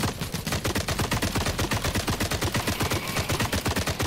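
Rapid automatic gunfire from the shooter video game The Cycle Frontier, a loud, continuous stream of sharp shots in tight rhythmic bursts lasting the whole stretch, with no talk over it.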